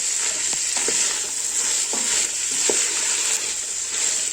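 About 800–900 grams of chickpeas are roasted in a pot while being stirred, producing a loud, continuous sizzle broken by several scraping strokes of the spoon. No one speaks.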